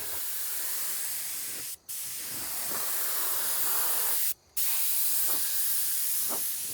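Spray gun laying clear coat finish onto a custom mirror frame, a continuous close hiss broken by two brief pauses.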